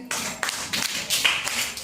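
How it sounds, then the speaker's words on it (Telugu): Children in a third-grade class clap their hands in short uneven bursts, a few loose claps nearby with light talk mixed in. "క్లాప్స్ కొట్టండి"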